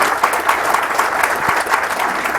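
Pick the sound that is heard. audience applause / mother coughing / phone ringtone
audience applause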